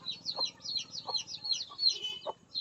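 Soft, repeated clucks from a chicken suffering from infectious coryza while its eye is cleaned with cotton, low-level and close, with chirpy bird calls in the background.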